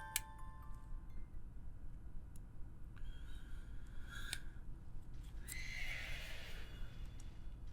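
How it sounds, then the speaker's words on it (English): Horse-like ice Pokémon in the video game Pokémon Sword and Shield, Crown Tundra, gives a whinnying neigh over a low steady game ambience, with a couple of short sharp effects before it. "Hello, weird horse ice Pokemon."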